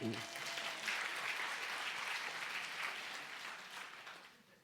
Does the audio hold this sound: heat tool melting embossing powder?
no